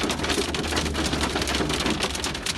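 Heavy rain pours steadily during a hailstorm in Ankara, a dense, continuous hiss of drops hitting surfaces with a low rumble underneath and no voices.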